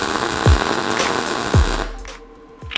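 Welding a metal sword piece: a harsh crackling arc hiss running steadily for about two seconds, close and loud, with sharp thumps, then cutting off to a quieter hum.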